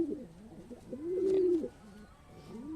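A racing pigeon coos in a soft, rolling rhythm, one long swelling coo in the middle, close by with light background hiss.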